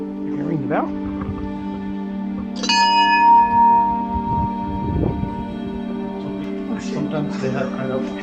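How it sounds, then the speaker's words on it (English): Bell struck at a Buddhist monastery in Marpha, Nepal, one clear ringing strike with a long sustained tone fading slowly, under steady background hum and occasional voices nearby. "You gonna ring the bell?"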